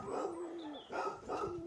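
Dogs outdoors at a rural spot with plenty of birdlife give a couple of faint, distant yips and barks over a steady background hum, with no one talking.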